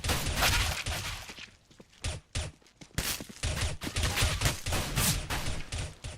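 Rapid bursts of AK-47 rifle fire in Counter-Strike: Global Offensive, loud, close and sharp, in repeated volleys with brief gaps, no talk over them.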